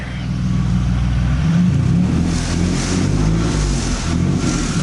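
A car with a 3.8 turbo engine, recently swapped from automatic to manual, pulls away in first gear, its steady low engine drone swelling loud and close throughout.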